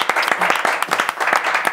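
An audience applauds at a televised Christmas awards gala, a dense, steady burst of many hands clapping close and loud, with no talk over it.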